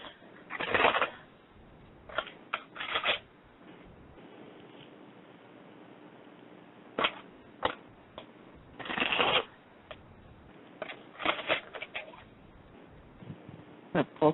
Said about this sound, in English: let's shuffle this up and let's see.